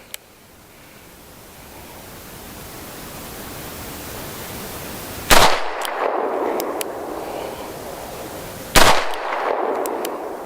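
Two sharp, loud Ruger GP100 revolver gunshots a few seconds apart, each with a short echoing decay, outdoors over a quiet steady background hiss.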